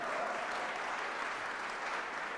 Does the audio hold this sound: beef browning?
no